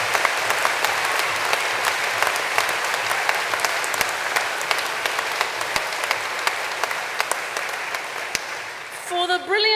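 Sustained applause from a large graduation audience at a civil engineering and computing ceremony, a dense steady clapping roar that holds throughout, then fades as a voice begins at the end.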